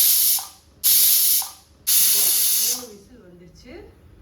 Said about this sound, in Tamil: குக்கரை மூடி வச்சு ஒரு 3 விசில் விடலாம்.